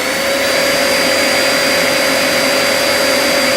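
A vacuum cleaner runs steadily and loudly on a DIY 48V inverter, with a constant whine and broadband roar, unchanging throughout with no other sounds.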